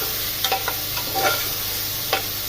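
Sinigang na buto-buto is stirred in a pot over a soft, continuous sizzle, with a few light scrapes and clicks from the spoon and no voices.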